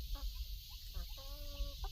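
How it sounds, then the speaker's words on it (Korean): Chickens cluck softly in a coop below, making a few short clucks under a steady background hiss. "밑에 닭들이 있습니다."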